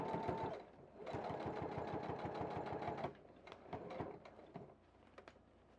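A sewing machine stitches a strap onto a reflector bag in quick bursts of rapid mechanical clatter, one long run in the middle and shorter stuttering runs toward the end, close and fairly quiet.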